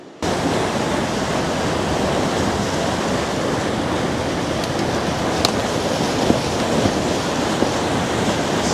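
River water rushing beside a nervous hiker about to cross, a loud, broad, continuous roar with a few faint clicks and knocks on top and no voices.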